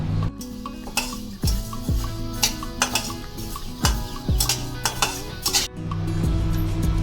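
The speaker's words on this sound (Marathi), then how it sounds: "डाळ पण आता पटकन आपण भाजून घेऊया" Dal being dry-roasted in a pan for thalipeeth bhajani flour, stirred with repeated scraping clinks of a spoon against the metal, in irregular bursts over a steady low hum.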